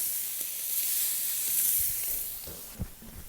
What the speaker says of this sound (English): And when they hit the pan, you can feel it, it's searing.